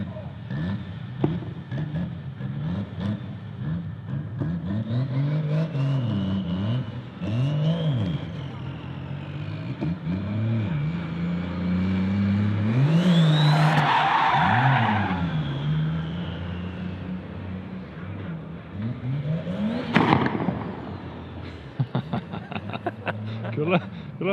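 A Mercedes-AMG GT drifting at a Chicago Drift competition, its engine wailing and revving through rising and falling sweeps with a burst of tire hiss and popping exhaust, while people talk nearby.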